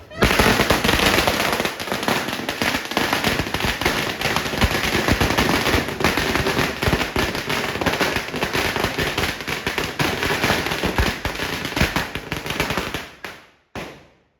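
A long, dense barrage of firecrackers at a Diwali celebration crackling and popping rapidly and loudly, nearly continuous, ending abruptly after a few final bangs.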